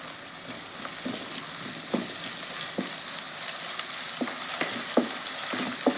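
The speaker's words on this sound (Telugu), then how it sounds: "కొద్దిగా అయితే అల్లం పేస్ట్ వేస్తున్నాను" A pan of capsicum masala curry sizzles as ginger paste goes in, a steady close frying hiss broken by repeated soft scraping and stirring taps, with no talking.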